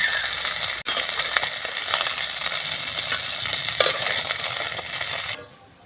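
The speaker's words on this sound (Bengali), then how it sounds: "মাছগুলো সব ভাজা হয়ে গেছে এবার তুলে নেব" Lata (snakehead) fish sizzle and crackle steadily in hot oil, with a brief metallic clink early on, before the frying sound abruptly drops away.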